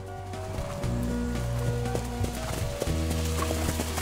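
A trotting racehorse's hooves clip-clop steadily on a training track, the rhythmic beats mixed with a loud low drone and engine-like hum throughout.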